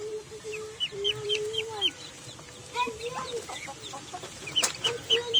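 Several chickens cluck and chatter close by, with short repeated calls overlapping in a busy, moderately loud farmyard scene.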